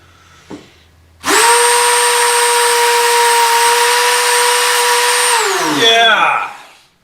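Black and Decker RTX-B rotary tool grinding into stiff rubber, a loud steady high-pitched whine that starts abruptly after a small knock, holds for several seconds, then spins down as the motor winds off.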